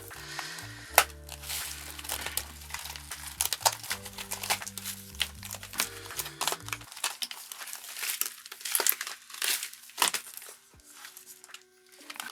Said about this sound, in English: we will be stuffing 170, and that is in my glitter envelope